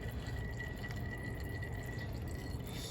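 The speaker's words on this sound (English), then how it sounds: "Just let that finish dripping out." Engine oil drips out of the crankcase of a Suzuki DRZ400 dirt bike, a quiet steady trickle of drips under a soft constant background hiss, with no voices.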